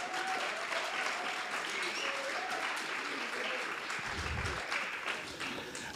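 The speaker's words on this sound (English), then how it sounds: "Let's give Mercedes-Benz a big hand of applause" An audience at a maths pod launch applauds Mercedes-Benz. The clapping is a soft, continuous patter heard from a distance for several seconds, and a brief low rumble comes in near the end.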